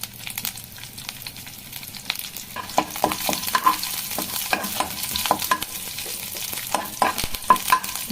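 Mustard seeds, dried red chillies, curry leaves and asafoetida crackle and sizzle in hot oil, a continuous frying hiss with sharp pops and occasional stirring scrapes, close and fairly loud.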